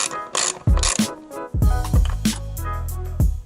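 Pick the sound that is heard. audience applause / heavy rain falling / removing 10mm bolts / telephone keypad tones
removing 10mm bolts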